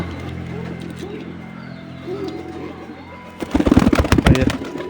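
Soft pigeon cooing murmurs in the background, followed by a burst of loud fluttering and clattering close by.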